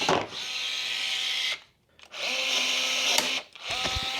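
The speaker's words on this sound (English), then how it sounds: "This gets riveted on, and it's fine by me because I get to use my rivet gun" Pneumatic rivet gun fastening a part on a Porsche Cayman GT4 rebuild, two long whirring, buzzing bursts separated by a brief silence, with a sharp snap near the end of the second burst and another burst starting after.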